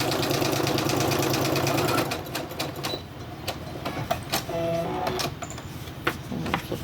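A sewing machine stitches paper journal folios for a junk journal, running in a fast, steady mechanical chatter for about two seconds, then slowing into intermittent clicks and knocks as the paper is shifted.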